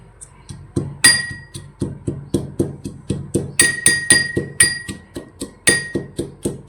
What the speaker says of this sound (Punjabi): ਇਹਨਾਂ ਦਾ ਆਪਾਂ ਮਸਾਲਾ ਤਿਆਰ ਕਰ ਲਾਂਗੇ ਜੀ ਕੁੱਟ ਕੇ